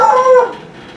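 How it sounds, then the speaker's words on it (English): A single dog's bark or short howl rings out up close, fading quickly into quiet. "sorry the dogs are barking, Scott's home"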